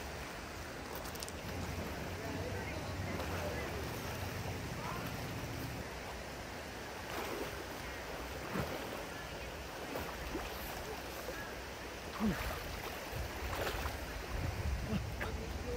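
A clean river flowing past a tent campsite, a steady broadband rush of water that carries evenly throughout with a few faint knocks and rustles close by.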